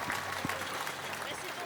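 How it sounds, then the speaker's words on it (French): Crowd applause at a Tahiti Fighting Championship event, a dense steady patter of many hands clapping at moderate, distant level, with an announcer's voice partly over it. "Et applaudissez-la encore, elle vient de loin aussi"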